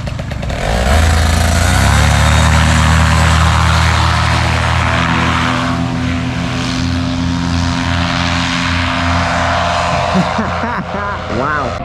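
A paramotor engine roars loud and close throughout a calm early-morning launch, a steady droning propeller buzz with shifting pitch, fading and changing near the end.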